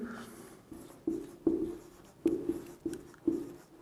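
A teacher writes on a board during a Hindi physics lesson on work, power and energy: a series of short, scratchy strokes in uneven bursts, close and fairly quiet, with no talking.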